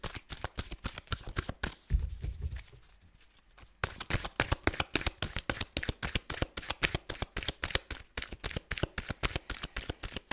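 Tarot cards are shuffled in quick, rhythmic riffles and flicks that continue steadily, close and crisp, with a short softer pause partway through.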